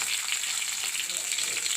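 Tempering spices sizzle in hot oil for a gram-flour chutney, a steady, fairly close crackling hiss with no pauses and no voices.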